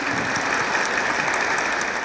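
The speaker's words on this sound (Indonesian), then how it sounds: "tepuk tangan dulu untuk Habib" Studio audience applause on a talk show discussing religion and politics, a brief, even burst of dense clapping with no talk over it.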